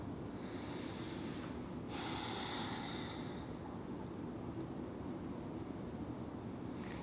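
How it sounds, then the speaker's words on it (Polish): Faint, close breathing during a lower-back exercise: a drawn-in deep inhale followed by a longer, slower exhale over a soft background hiss. "Głęboki wdech, powoli wydech."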